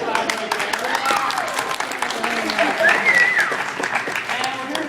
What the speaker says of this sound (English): Give her a clap right